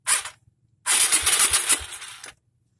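A Suzuki Skywave scooter engine, neglected and run down, is cranked by a starter dynamo jumped with a PLN cable. It gives a short burst, pauses, then catches into a loud, rough revving run of about a second and a half before cutting off.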